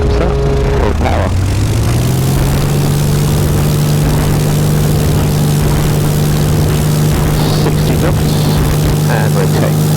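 A light aircraft engine goes to full power for takeoff, its loud, steady propeller drone rising in pitch over the first two seconds and then holding a constant roar, heard close up from inside the cabin.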